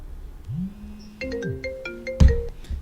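A telephone ringtone plays a bright, melodic electronic tune while a call is being placed, the rising and falling notes sounding close and clear over faint background noise, with no talk.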